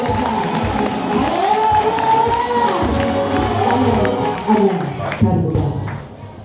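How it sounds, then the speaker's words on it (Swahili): A church congregation at an inauguration service in Tanzania claps steadily while high, warbling ululation trills rise and fall above the noise, loud and continuous, with some voices mixed in. "ongeza makofi na vigelegele kwa Yesu"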